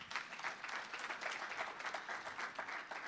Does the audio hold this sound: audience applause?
yes